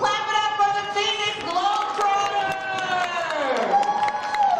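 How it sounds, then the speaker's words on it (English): A crowd at a high school Black History Month assembly cheers and claps after the last game, with loud, sustained shouts and whoops from many voices layered over scattered clapping. "Clap it up for the Phoenix"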